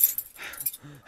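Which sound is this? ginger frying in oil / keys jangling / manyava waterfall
keys jangling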